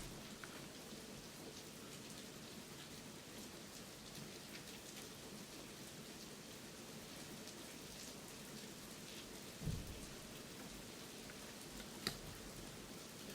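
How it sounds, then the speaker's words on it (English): Steady outdoor rain patters continuously on surfaces, with a low rumble of thunder swelling briefly near the end, moderately loud and with no voices. "Do y'all hear the rain?"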